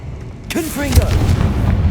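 A Confringo fire spell blasts in Hogwarts Legacy gameplay: a sharp broadband burst cuts in, then a loud sustained rumble carries on. A voice calls out before the burst and over it.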